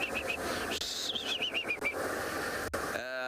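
A fork-tailed drongo whistling in imitation of a squirrel, a run of quick, clear, repeated rising-and-falling whistle notes in two short bursts over soft outdoor background noise.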